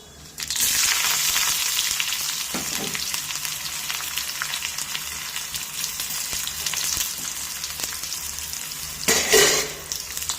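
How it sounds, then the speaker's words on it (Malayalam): Chopped onion, curry leaves and dried chillies fry in hot oil for a jackfruit thoran tempering, with a steady close sizzle that starts abruptly and flares into a louder crackle near the end. "ഉള്ളി അരിഞ്ഞതും കറിവേപ്പിലയും വറ്റൽമുളകും കൂടെ ചേർത്ത് വറുത്തെടുക്കാവുന്നതാണ്"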